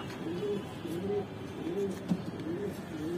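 A female grizzle pigeon coos repeatedly, with low, soft, rolling calls recurring in a steady rhythm over faint background hiss.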